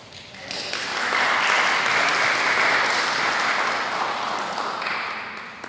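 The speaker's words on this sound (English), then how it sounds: "Please welcome him and give him a big round of applause." A meeting audience at a civic and taxpayers association gathering breaks into sustained applause, a dense, steady clapping that rises quickly, holds for several seconds and tapers off near the end, heard from within the room.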